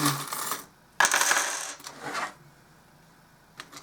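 Small metal charms spill out of a box in a couple of quick jingling, clattering bursts, followed by quiet and a faint final clink.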